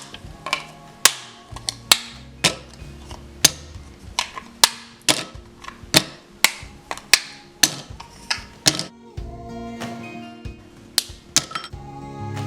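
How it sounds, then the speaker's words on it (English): Sharp snapping cracks, about twenty in an irregular series, like chocolate bars being broken into small pieces, close and crisp with quiet gaps between. "Break the chocolate into small pieces."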